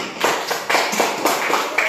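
Children in a primary school maths classroom clap their hands together in a short rhythmic burst of several quick, evenly spaced claps, close and fairly loud.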